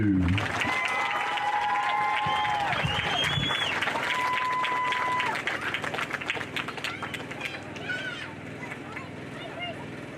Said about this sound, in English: would you please give one final round of applause to the class of 2022